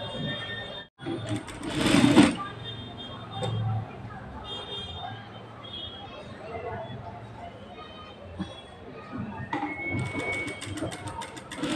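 A sewing machine stitches lace onto a blouse neckline in short bursts, with clattering runs near the start and end and quieter handling noises between, while a voice speaks in Telugu.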